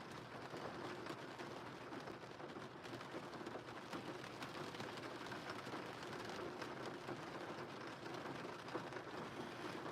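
Steady rain falls outside in a dense, even hiss of drops on surfaces, faint and continuous for the whole stretch, with no voices.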